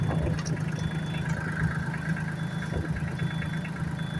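A car engine idling while being shifted into low-range reverse: a steady, close, low rumble with a faint high whine, and a few small knocks and clunks, no talking.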